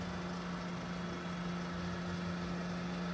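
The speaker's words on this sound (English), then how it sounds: "Engine sounds lovely." Mercedes CLK 200 Kompressor automatic convertible sitting at a quiet, steady idle, a faint even hum with no talk over it.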